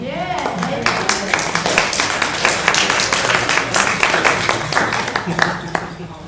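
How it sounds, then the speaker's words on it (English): Audience at a forum gives a round of applause, a dense run of claps that holds steady for several seconds, with voices mixed in. "there's a request to show a round of applause to Nathan for getting the job done day in and day out"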